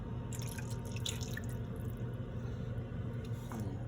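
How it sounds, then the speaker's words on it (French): Sauce is poured in a kitchen, a soft steady trickle with small dripping splashes, close and moderately quiet over a low hum. "Et maintenant, on verse."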